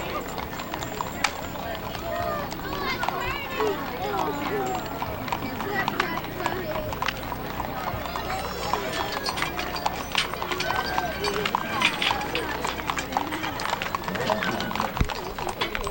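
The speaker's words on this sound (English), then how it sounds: "Here's a beautiful match team of draft horses." Draft horses in a matched team clip-clop at Mule Day in Columbia, Tennessee, in 1995: a steady run of hoof strikes over continuous crowd chatter and outdoor bustle.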